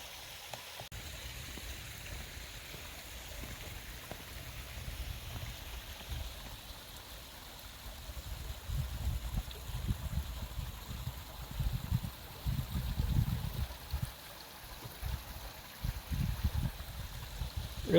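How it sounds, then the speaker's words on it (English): Water trickling and flowing down a hillside on a forest trail, a soft continuous wash of broadband noise that swells louder in the second half, no voices. "Got some water flowing down this hill here."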